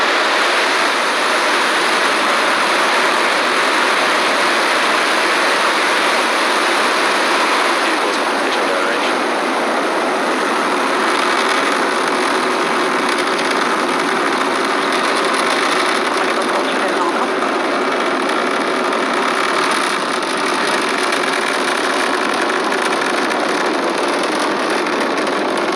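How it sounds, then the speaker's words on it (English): SpaceX Falcon 9 rocket liftoff, a loud continuous broadband roar that holds steady and unbroken throughout. "and we have liftoff."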